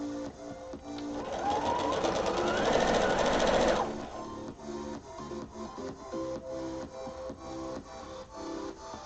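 A sewing machine runs in a loud, steady, fast-stitching burst for about four seconds, then stops, leaving a background of tonal music-like sound during a casual sewing and chatting session.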